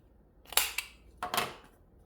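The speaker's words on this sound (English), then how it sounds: "I'm going to corner round these so they match the same" A corner rounder punches the corners of old photos with two sharp, close clicking crunches about a second apart.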